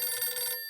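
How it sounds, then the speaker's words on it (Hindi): A telephone rings with a bright, steady electronic trill for most of the moment and then cuts off abruptly, heard alone and close. "तुम्हारा फोन बज रहा है."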